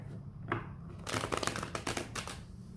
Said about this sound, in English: Two more shuffles, please, for Libra.